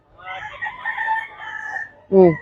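Chickens at a Grotto poultry market: a single rooster crows in one drawn-out cock-a-doodle-doo, ending in a short, loud, nearby squawk or cluck.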